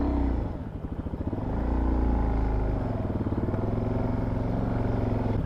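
A dual-sport motorcycle engine runs steadily and loudly in snowy ruts, its low throbbing drone rising and falling slightly over several seconds.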